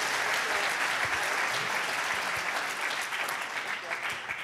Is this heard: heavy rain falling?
no